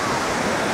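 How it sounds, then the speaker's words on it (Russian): Sea surf washing onto a beach at Vitjazevo near Anapa, a steady broadband rush of breaking waves, loud and continuous with no distinct individual crashes. "Здравствуй, наше любимое морешко."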